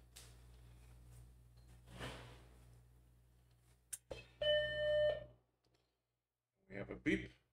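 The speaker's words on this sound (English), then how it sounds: "We have a beep." A Mac Plus computer with a freshly recapped analog board sounds a clear, sustained startup beep after some quiet clicks and handling noise, followed by a person speaking.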